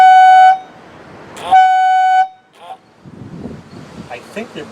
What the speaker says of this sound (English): The horns I remember as a kid, and then I had them in my old Chevy.